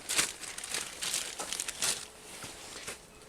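A small plastic zipper bag holding cylinder nuts and washers from an engine teardown is handled up close, giving quiet crinkles and rustles in short uneven bursts, with no talk.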